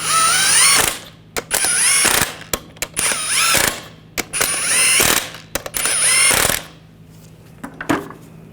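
A ratchet wrench snugs down sway bar link nuts on a 2014-2018 GMC Sierra in repeated close, loud bursts of rapid clicking with short pauses between them.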